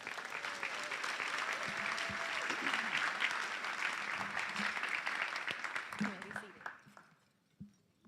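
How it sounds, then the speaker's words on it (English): Audience applause at a high school senior recognition ceremony for graduating seniors, a dense sustained crowd of clapping that swells and then fades out toward the end, heard from within the hall. "Let's give them a round of applause."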